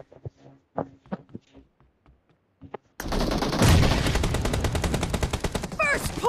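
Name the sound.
gunfire in PUBG Mobile video game team match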